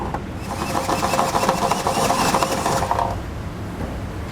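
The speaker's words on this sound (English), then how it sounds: "What I like to use is a step bit. This is going to allow us just to kind of slowly enlarge the hole as we go." A step drill bit whines steadily through the metal of a 2017 Subaru Outback frame while enlarging a bolt hole for a Curt trailer hitch receiver, a close, loud grinding drone for about three seconds before tapering off.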